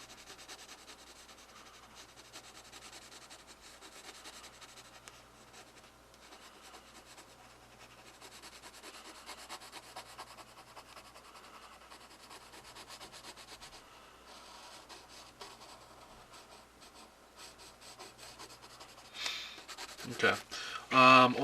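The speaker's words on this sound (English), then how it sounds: "I'm on the HB right now, going to kind of round off the tree here" An HB pencil shading and rounding off a drawn tree on paper, a faint continuous rubbing scratch with rhythmic strokes, close and quiet, ending in louder handling noise.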